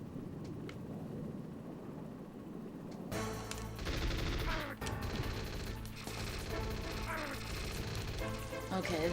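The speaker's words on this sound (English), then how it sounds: "Who the hell's shooting at me?" Gunfire aimed at the player in the stealth video game Metal Gear Solid, a dense run of sharp shots and crashing impacts starting abruptly a few seconds in and continuing loudly over game noise to the end.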